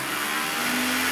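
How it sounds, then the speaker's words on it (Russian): A small DC electric motor from a Znatok electronics kit spins a plastic propeller, giving a steady, close, high whirring hum with airy rush that holds constant throughout. "то пропеллер не полетит, а будет дуть как вентилятор"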